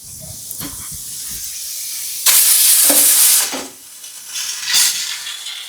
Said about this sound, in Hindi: कुकर की सीटी